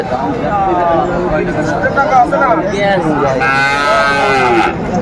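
Cattle moo loudly and repeatedly over a busy hubbub of crowd chatter, close by and continuous, at a livestock market in Cumilla, Bangladesh, where calves and Sahiwal bulls are sold.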